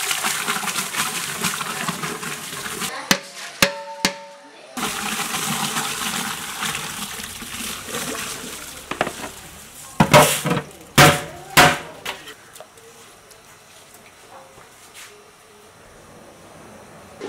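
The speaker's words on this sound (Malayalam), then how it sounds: "വെള്ളത്തിൽ വേണ്ടത്ര മസാലകൾ ചേർത്ത് കഴിഞ്ഞാൽ കഴുകി വച്ചിരിക്കുന്ന അരി അതിലേക്കിടും" Washed rice is tipped into a large pot of boiling, spiced water for Kozhikode dum biriyani, a rushing splash and gush followed by sharp metallic knocks and clanks, close and loud, then quieter bubbling.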